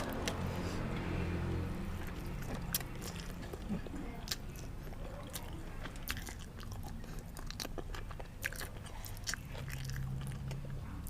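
Someone crunches and chews spicy Thai bamboo shoot and bean salad outdoors under a mango tree in a backyard, bites snapping sharply and repeatedly up close, with occasional voices talking in between.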